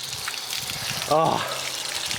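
Water flushing through a B series engine block during epoxy filling, a steady gushing wash with a brief louder surge midway, and a voice exclaiming over it.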